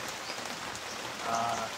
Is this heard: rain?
yes